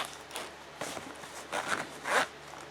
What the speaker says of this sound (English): Very nice zipper.